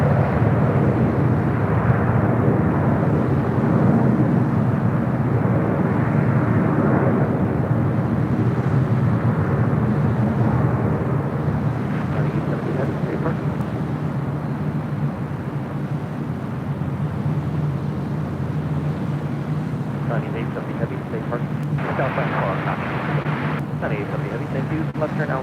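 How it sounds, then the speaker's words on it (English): An Air Tahiti Nui Boeing 787 Dreamliner taxiing across LAX, a steady broad jet engine roar holding at constant strength throughout, with occasional fainter clicks and rattles. "the Air Tahiti Nui Dreamliner heading up to the north side for a flight to Vegas"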